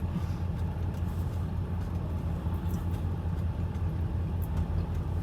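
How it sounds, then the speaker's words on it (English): A car idles at a traffic light, its engine giving a steady, loud low rumble and vibration that holds evenly throughout with no voices. "the car is really vibrating sitting here"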